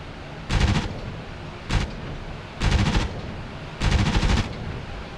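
A P-51's machine guns fire in DCS, four loud bursts of rapid rattling gunfire, one very short, over a constant engine drone.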